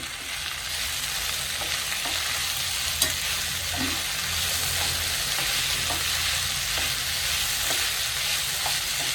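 Ivy gourd fry with chopped tomatoes being stirred in a pan: a steady, close sizzle with occasional scraping taps of the spoon, no talking.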